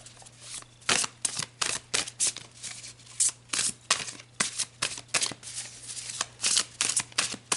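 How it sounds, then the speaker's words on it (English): A deck of tarot cards is shuffled close up, with repeated crisp riffling bursts in a steady rhythm and short pauses between them. "let's pull some more cards"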